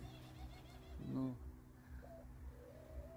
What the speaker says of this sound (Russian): Ну как не любить такого голубя?